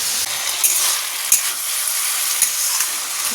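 Food frying in a pan on a gas stove, a dense, close crackling sizzle that holds steady for a few seconds with a few soft stirring knocks and no talk.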